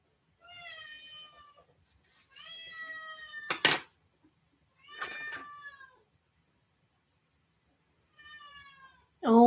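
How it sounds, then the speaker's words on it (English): A hungry kitten cries in a run of high, drawn-out meows, some clustered and a few louder and shriller, with short quiet gaps between them and a sharp noise at the end. "that poor kitten. Do you hear him crying?"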